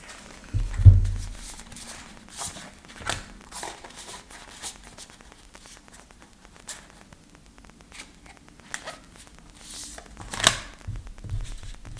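Soft papery rustles and light flicks of a deck of playing cards being fanned out up close, quiet and intermittent, with a couple of sharper taps.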